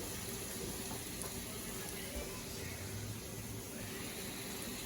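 Garlic frying in a pan and stirred with a wooden spoon, a steady broad sizzle throughout, close and even, with faint scraping.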